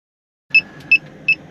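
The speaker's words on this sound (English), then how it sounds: "the alarm is still sounding when the tank is full" Fresh water tank alarm in a camper van in France, sounding even though the tank is full, gives three short, evenly spaced high electronic beeps over a quiet low background, fairly close and clear.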